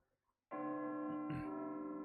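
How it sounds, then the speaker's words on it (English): A single bright video game bell strikes after a short silence and rings on with a sustained, resonant tone that slowly fades. "Bell ringing."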